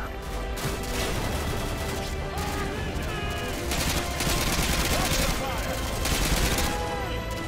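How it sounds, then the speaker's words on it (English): Dense, continuous gunfire in Call of Duty: Modern Warfare 2, a loud wartime fusillade of rapid overlapping shots and machine-gun bursts that goes on without a break, with in-game voices shouting over the battle. "what am I getting shot at?"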